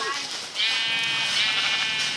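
A sheep in Minecraft gives a short, clear bleat, loud and close, heard over a player's voice.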